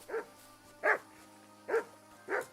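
Four evenly spaced barks from a dog in the video game Kingdom Come: Deliverance II ring out at a moderate distance, each short and sharp, with quiet pauses between them.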